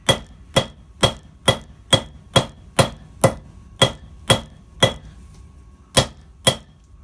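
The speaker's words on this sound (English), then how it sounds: "you're going to take the back side of your hammer, the pointed end, and just kind of give it a little texture." Sharp hammer blows from the pointed back end of a blacksmith's hammer texture hot forged metal for a coat hook, about a dozen ringing strikes in a steady rhythm that slows and pauses near the end, close and loud.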